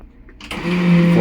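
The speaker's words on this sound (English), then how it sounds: "Add water to the bowl." A SEAFLO quiet-flush marine toilet adds water to the bowl: a motorized whir starts and swells into a steady pump hum with a rising tone, loud and close, with no talk.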